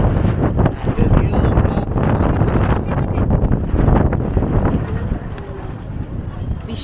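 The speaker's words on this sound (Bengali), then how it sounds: "বিশাল জোরে হাওয়া দিচ্ছে, ধুলো উঠছে" Strong wind blows outdoors, raising dust, with heavy continuous buffeting and rumbling against the microphone that stays loud and close for the whole stretch.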